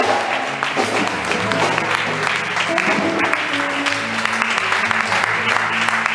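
A church congregation applauds and cheers to welcome a preacher, loud sustained clapping that fills the room throughout, with some voices and music mixed in beneath.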